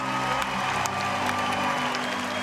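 Steady applause and crowd noise from an audience at a Frisian stallion inspection final, farewelling horse number 366 Jasper, a dense continuous wash of clapping with a few scattered cheers and whoops.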